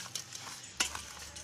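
A spoon clinks and scrapes in a pot as powdered jaggery, cardamom, dry ginger and pepper are stirred together, a few quick metallic taps with one louder scrape near the end, quiet and close.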